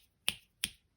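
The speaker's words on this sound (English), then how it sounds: "I'm snapping my fingers" Two crisp finger snaps, evenly spaced about a third of a second apart, close and sharp with quick decays in an otherwise quiet room.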